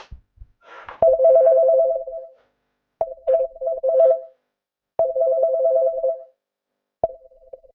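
An incoming-call phone ringtone plays in repeated bursts of a melodic tone, each lasting about a second and separated by short pauses, loud and clear with no talking over it.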